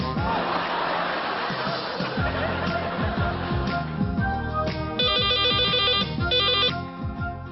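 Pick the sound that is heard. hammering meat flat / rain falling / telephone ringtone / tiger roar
telephone ringtone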